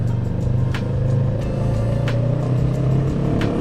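QJMotor SRT450RX motorcycle climbing uphill at lower RPM, a steady, close engine drone with a low throbbing pulse and wind rush throughout.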